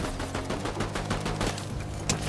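Dense, rapid gunfire from a Fortnite match crackles continuously in quick bursts, loud and busy with overlapping shots, with no voices.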